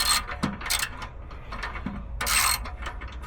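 A ratchet tightening a clamp gives quick, close clicking runs in short bursts with brief pauses between strokes, crisp metallic pawl ticks over faint room noise.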